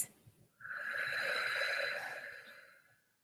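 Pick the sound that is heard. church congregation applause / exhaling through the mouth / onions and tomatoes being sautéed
exhaling through the mouth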